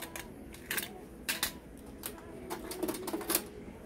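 Mechanical clicks and clunks from a Panasonic SC-PM77MD silver mini stereo system as a MiniDisc is ejected, a few sharp clicks spread out over quiet background hum.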